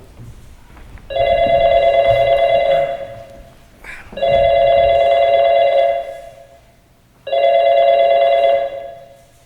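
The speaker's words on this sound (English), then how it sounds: "But one day I got an unexpected phone call." A telephone ringing on stage during a school drama festival play: three long electronic bell rings with short pauses between them, loud and clear with no one speaking.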